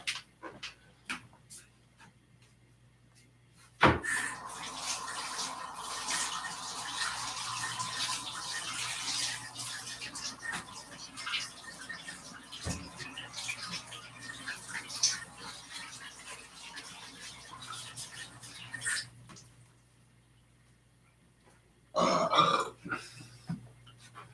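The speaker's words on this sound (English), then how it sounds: "Wash my hands." Hands are washed under a running tap, a steady close hiss of flowing water that starts abruptly, runs for about fifteen seconds and then stops, followed by a brief splash.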